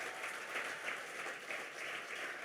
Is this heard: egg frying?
no